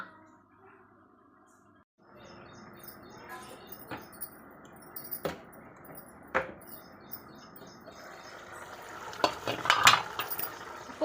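Chicken curry with tomatoes simmering in a pot, a quiet bubbling bed broken by sharp clinks of a spoon against the pot and stirring scrapes that grow busier toward the end, no talking.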